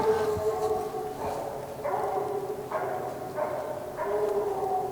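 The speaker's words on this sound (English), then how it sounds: "That's two different dogs barking." Two hounds bay on a nighttime raccoon hunt, repeated drawn-out howling barks at a distance, rising and falling in a loose rhythm over steady outdoor background noise.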